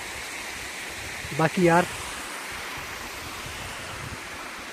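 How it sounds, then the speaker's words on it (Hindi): A mountain stream runs near Gulaba above Manali on the way to Rohtang and feeds a waterfall below. It keeps up a steady, moderate rush throughout, and someone says a couple of words briefly partway through. "इस तरफ ये झरना बह रहा है जो सीधा जा रहा है उसी वाटरफॉल में"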